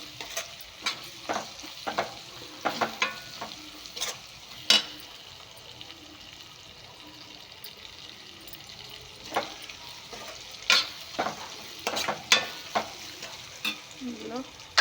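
Ginger garlic paste frying in a pan while being stirred, a steady sizzle broken by repeated scraping and clinking spoon strokes, some close and sharp, with a brief stretch of quieter frying in the middle.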